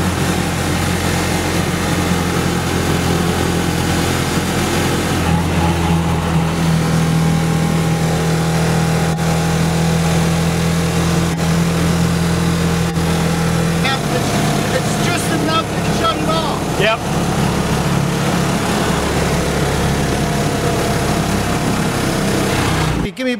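A ranger truck with a 6.5 HP Predator engine runs at a steady idle, a constant droning motor with a shift in pitch partway through and a sharp stop at the end.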